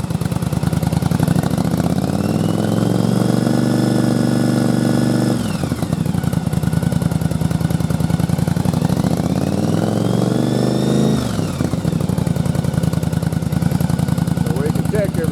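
A Yamaha Virago motorcycle engine mounted on a test rig revs up twice, each time climbing steadily in pitch from a rumbling idle and then dropping back sharply, while someone speaks over it.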